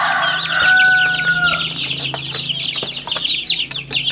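A brood of turkey poults and chicken chicks, mostly black, peeping steadily in a dense chorus of high chirps, loud and near throughout.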